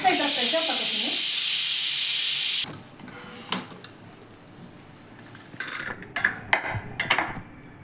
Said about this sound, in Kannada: ಒಂದು ವಿಷಲ್ ಬಂದ ತಕ್ಷಣ ಪ್ರೆಷರ್ ತೆಗ್ಬಿಡಿ